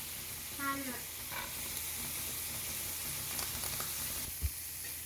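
Carrots and small shrimp stir-fried in a pan for fried rice, a soft continuous sizzle with a few scraping stirs and a utensil knock, close and quiet, with a brief voice in the background.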